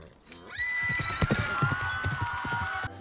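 Horse hooves clip-clop in a steady trotting rhythm as a rider heads off toward a village, the hoof beats close and clear over a sustained whinny-like tone, with no talking.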